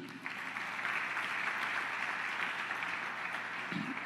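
Congregation applause fills a church during a sermon, a steady, dense wash of clapping from many hands that holds evenly throughout with no voices on top.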